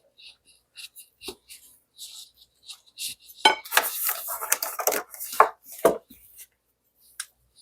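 Sourdough dough mixed by hand in a bowl with whole wheat flour, giving soft irregular rubbing, squelching and scraping sounds, sparse at first, then a denser burst of sticky working in the middle, all close and fairly quiet.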